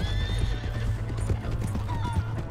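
Horse from Red Dead Redemption 2 whinnying over steady clip-clopping hooves, the neigh rising as a bright sweeping call while the hoofbeats keep a close, continuous rhythm throughout.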